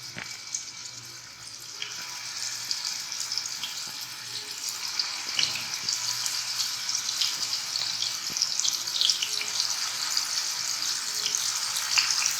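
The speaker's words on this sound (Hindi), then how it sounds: "अब हम इनको फ्राई करते हैं, गोल्डन फ्राई करना है हमने इनको।" Noorjahani kebabs frying in hot oil, a steady close sizzle and crackle that holds throughout without pause, with faint clinks of utensils and no talking.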